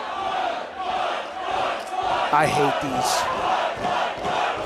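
Wrestling event crowd at a live match, a loud steady roar of yelling and cheering fans filling the space, with a voice speaking briefly amid the noise.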